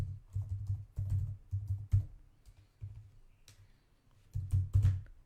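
Bursts of quick keystrokes on a computer keyboard, close and crisp, come in short runs separated by brief pauses while a name is entered into a Colab notebook.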